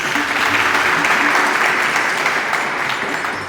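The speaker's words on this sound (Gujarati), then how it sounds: "એના માટે એકવાર જોરદાર તાળી" An audience applauds two software engineers at a gathering for a Jalaram Bapa pilgrimage walk, a loud sustained burst of clapping from a crowd.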